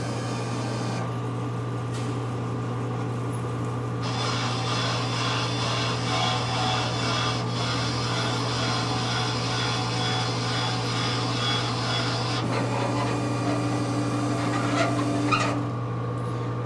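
A pizza vending machine with its internal elevator running gives a steady mechanical hum and motor drone, broken by a few shifts in tone as parts move, continuous and close.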